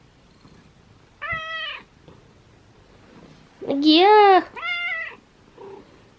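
A cat meows several times in drawn-out, rising and falling calls, one louder and higher than the rest, with quiet pauses between. A person speaks softly in the background.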